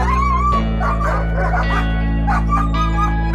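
A dog yelps and whimpers in a high, wavering voice, with short excited cries repeating close up over a steady low hum, as it greets its owner returning home after three weeks away.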